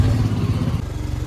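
A motorcycle starts off on a city road at the start of a long bike trip, its engine chugging low and close for a moment, rough and pulsing as it pulls away, with no talk.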